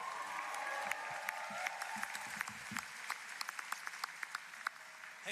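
Applause from a university commencement audience, a sustained wash of clapping with distinct individual claps popping out near the front and thinning as it goes on.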